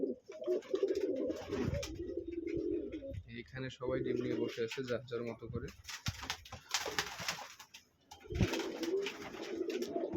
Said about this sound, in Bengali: এই যে সিরাজি জোড়া কবুতর